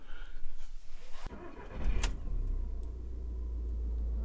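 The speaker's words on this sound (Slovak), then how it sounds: "naštartujem motor" A camper van engine is started: a brief starter crank, then the engine catches and settles into a steady low idle, close and fairly loud, with no talking.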